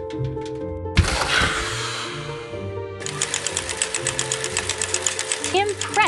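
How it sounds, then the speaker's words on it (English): A cartoon iron pressing a shirt: a sudden steamy burst followed by a quick, steady run of rhythmic pressing pulses over a bright background music bed. "Can you help Mickey iron his shirt?"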